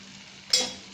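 Coriander powder is stirred into a simmering drumstick and tomato curry in one quick scraping stroke with a soft sizzle, close and brief.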